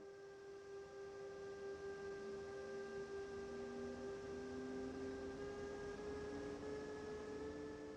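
A DB BR 146.2 electric locomotive in Train Sim World 2 eases into motion, a faint steady hum of traction motors with sustained whining tones that slowly rise in pitch as it gathers speed.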